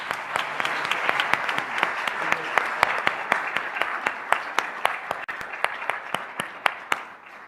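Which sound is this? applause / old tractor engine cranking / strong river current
applause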